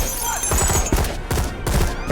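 A vibranium cannon fires in a Black Panther film scene, producing loud, rapid bursts of blasts that crack repeatedly in quick succession.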